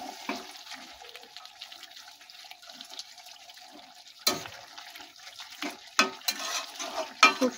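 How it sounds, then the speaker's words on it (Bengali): Water is poured into a chicken and capsicum curry in a pan, a steady wet hiss with a few louder splashing and stirring bursts toward the end. "দেখো এবার আমরা পরিমাণ মতন জলটা দিয়ে দেবো।"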